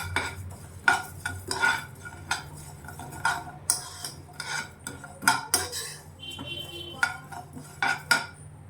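Spices roasting in a pan while a spoon stirs them, with repeated metallic scrapes and taps against the pan in an irregular rhythm and a faint sizzle underneath.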